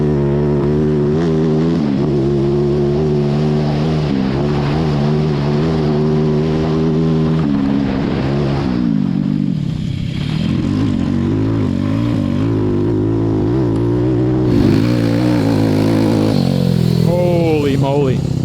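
A 190cc shifter kart engine, tuned and set up with drift steering, revs hard on a track, its buzzy high-pitched note rising and falling through throttle changes while voices speak over it.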